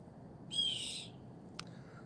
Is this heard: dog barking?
no